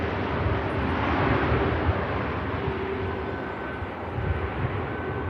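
An EasyJet airliner touching down at Manchester Airport, a steady broadband roar of jet engines and rushing air that holds loud and unbroken from start to end.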